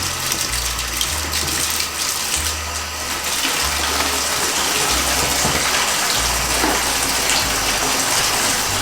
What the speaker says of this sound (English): I'm going to fill this up with some water